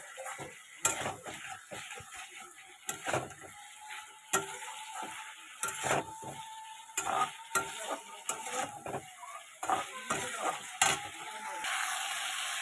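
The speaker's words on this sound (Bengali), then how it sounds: "এবার দিয়ে দিচ্ছে যে ভাজা মাছগুলো সম্পূর্ণ সব দিয়ে আর একটু ভালো করে কষাবো।" Fried fish and potatoes stirred in spice paste in a hot pan: steady close sizzling with repeated spatula scrapes and knocks against the pan at an uneven rhythm, a louder burst of frying near the end.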